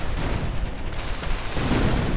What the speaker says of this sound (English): assault grenades going off.